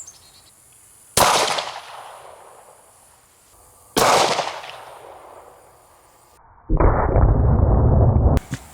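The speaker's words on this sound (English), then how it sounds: "Shoot them with a 40 Smith & Wesson hollow point." Two sharp, close gunshots from a .40 S&W firing 180-grain hollow-point rounds into a block of clay, each a loud crack that rings out and decays, followed by a dense, sustained burst of noise.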